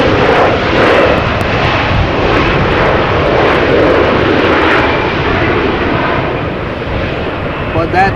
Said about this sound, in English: But that is the reversers that you heard.